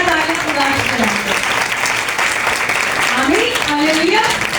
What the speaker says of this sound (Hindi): जोरदार ताली खुदा की तरफ।